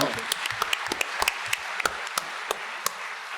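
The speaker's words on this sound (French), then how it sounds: "Applaudissements pour Henri." An audience at a professional conference on real estate gives scattered, uneven applause, with distinct individual claps over a thin bed of clapping and some murmuring voices.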